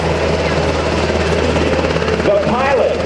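UH-60 Black Hawk helicopter lifting straight up at a joint-services open house, its loud steady rotor and turbine roar constant and close throughout, with a rising whine near the end.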